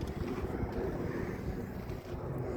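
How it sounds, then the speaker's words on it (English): Strong wind buffets the microphone in a constant, rumbling roar with gusty low-frequency flutter throughout and no voices. "It's really windy out here"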